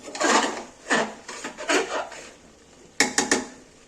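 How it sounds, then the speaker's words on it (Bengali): Spiced chicken being stirred and fried in a pan with a spatula: several loud, close scraping strokes in an uneven rhythm, a pause, then a quick run of sharp clanks against the pan. "একেই ভালো করে নেড়ে নেড়ে কষে নেব কষিয়ে নেব"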